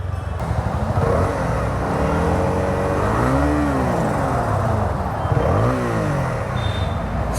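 A Honda motorcycle revving hard at high rpm, its engine note climbing and falling in rising sweeps close to the mic, steady and loud throughout with no talking.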